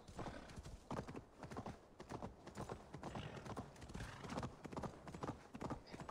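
Hooves clop in a quick, steady rhythm as a horse gallops in Assassin's Creed Valhalla, close and clear, with a brief whinny-like sound and little else around.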